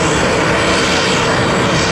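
Loud, steady roar of a MiG-17F jet flying past during an air show display at Duxford, a dense broadband engine rush that holds throughout without pause.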